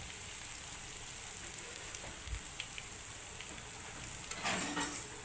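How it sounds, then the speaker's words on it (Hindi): A bread snack fries in a pan, giving a steady, even sizzle and hiss throughout with a slight crackle flaring near the end. No one speaks. "अब इसे फ्राई कर लें"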